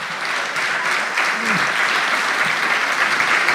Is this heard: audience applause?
yes